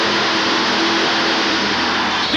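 A 1971 Ford Bronco monster truck with a Super Cobra Ford engine runs at a 1987 Richmond, Virginia monster truck and mud bog event, giving off a loud, unbroken engine roar.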